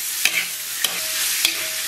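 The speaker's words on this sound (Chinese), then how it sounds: "然后把洋葱末给它下里边， 然后继续给它煸炒一下" Pork belly sizzles loudly in a hot wok with minced scallion, ginger and onion, a steady frying hiss broken by three sharp scrapes of the spatula as the mixture is stir-fried.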